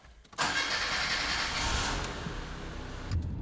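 A Mustang with a broken ignition tumbler gives a short crank, then catches and roars into a loud, steady running engine close by, settling slightly before a final brief rise.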